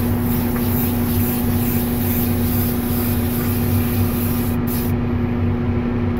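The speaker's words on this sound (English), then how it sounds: "So you saw I was kind of spraying it on the base" Spray paint hisses continuously onto a 1/5 scale Hulk vs. Thor figure prototype, a loud close airbrush-like spray that cuts briefly near the end, with no voices.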